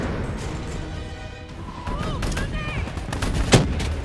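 Gunfire in the shooter game Black Ops 3 during a campaign battle against an APC and a VTOL: rapid bursts and sharp shots crack over rumbling combat noise, with voices talking and a loud impact near the end.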